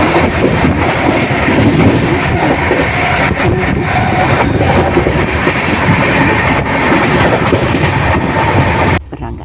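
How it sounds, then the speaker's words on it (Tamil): A Tamil Nadu superfast express train running on its rails, with loud continuous rumble and rattling wheel noise close by throughout, cutting off abruptly near the end. "இந்த Tamil Nadu super fast train express"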